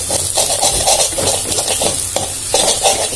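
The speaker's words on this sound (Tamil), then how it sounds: "அடுத்த சிம்மில் வச்சுட்டு நம்ம இப்படியே கொஞ்சம் கிளறுவோம்" A pan of carrot greens and egg stir-fry is stirred steadily over a low flame, the spatula scraping and tossing while a soft sizzle of frying runs continuously beneath, close and fairly loud.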